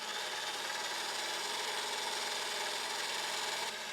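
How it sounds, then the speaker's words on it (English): An electric whisk beats egg whites in a mixing bowl, giving a steady, continuous whirring buzz at close range that holds level throughout and drops away slightly at the very end, with no talking. "You may like to use an electric whisk if you have one."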